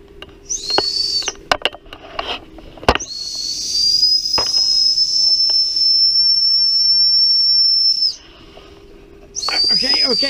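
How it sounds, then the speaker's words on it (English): An emergency whistle built into a survival knife handle with a ferro rod is blown in a few short shrill blasts, then one long sustained loud blast, then another short blast at the end, with a few clicks and handling noises between. "Appears to be an emergency whistle."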